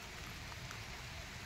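Rain falls steadily in a golden custard apple orchard, a faint, even hiss with no distinct drops and no talking.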